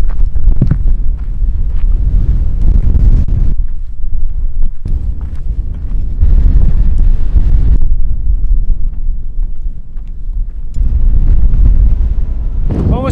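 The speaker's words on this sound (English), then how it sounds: "It's after about an hour and a half of being sandblasted by the wind." Strong wind gusts roar across a mountain ridge at Parker Ridge in Banff, buffeting the microphone in loud, continuous waves with brief lulls, close and harsh throughout, with no talking.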